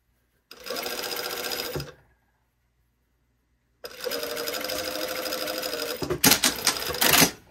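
A sewing machine stitching a garment lining at a 2.5 mm stitch length, running loud and steady in two close bursts separated by a pause, the second ending in choppy stops and starts.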